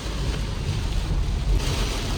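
A heavy downpour roars as a steady, dense wash of rain noise, loud and unbroken from start to finish, with no voices over it.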